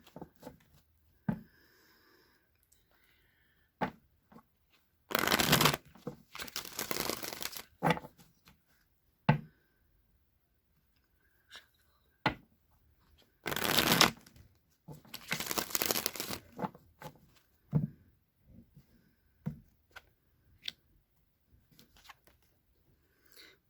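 A deck of tarot cards is shuffled in several loud riffling bursts separated by soft taps and quiet handling, with no talk over it.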